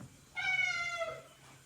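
A cat gives a single clear, drawn-out meow, close and fairly loud, rising then fading over about a second against a quiet room hum, with no talk.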